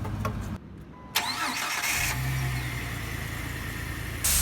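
A Jeep Rubicon fitted with a brand-new starter cranks briefly and catches, then settles into a steady, fairly loud idle with a small rise near the end; no talking.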